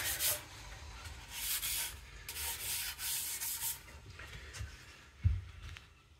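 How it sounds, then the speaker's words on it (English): Silver Scotch Brite pad rubbed over a wooden air rifle stock gives repeated soft, scratchy strokes close up, in irregular bursts with brief pauses between them. "So quickly going to Scotch Brite it now. This is silver Scotch Brite, so it's, I think, 1500 grit"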